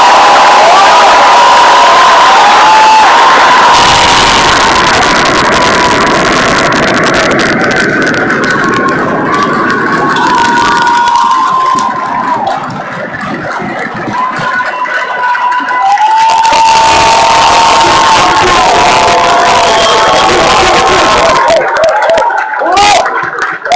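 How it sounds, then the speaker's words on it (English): Crowd at an Army graduation ceremony cheering and whooping loudly and continuously, with applause and shouting swelling in waves, a few whistles cutting through, and amplified speech mixed in. "would you please join me in a round of applause for America's newest soldier"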